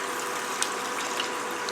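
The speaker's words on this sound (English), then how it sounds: "I'm going to go ahead now and add my water." Water pours steadily into a pot of creamy chicken stew, a bright continuous rushing splash with a few small clinks, close and fairly loud.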